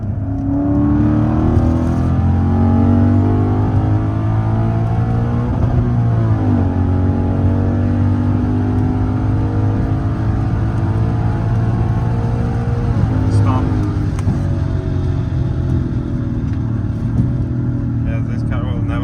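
A car accelerates hard from around 50, its engine pulling in a loud, rising drone heard from inside the cabin, with a brief dip midway and people talking over it.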